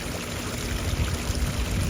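Water trickles steadily from a small, shallow waterfall into a front-yard pond where bees drink, a continuous close splashing burble with no voices.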